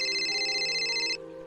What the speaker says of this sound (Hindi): कि तुरंत उनका फोन बजा।